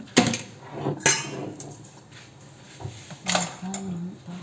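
An egg drops into a bowl holding kimchi powder, giving a few short clinks and knocks against the bowl under faint background noise, with a sharp tap near the start and another partway through.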